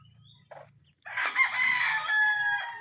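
Backyard pet chickens clucking softly, then a rooster crows loudly and close, a long drawn-out call over continued low clucks.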